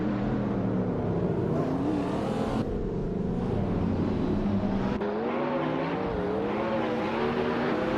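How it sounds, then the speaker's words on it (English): Sustained racing-game engine note of a 2018 Ferrari 488 Pista supercar, revving steadily with gliding pitch shifts and a brief gear-change dip, loud and continuous throughout with no talk. "Driving a sleek 2018 Ferrari 488 Pista."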